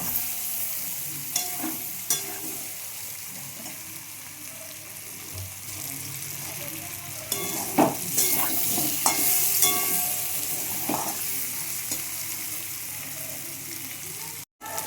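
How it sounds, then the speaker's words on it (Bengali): Potatoes with a little turmeric sizzle in a pan while a spatula stirs them, giving scraping and clinking over a constant frying hiss, with a brief splash of running water partway through. "সেটাকে ভালোভাবে একটু ভেজে নেবো নেড়ে চেড়ে"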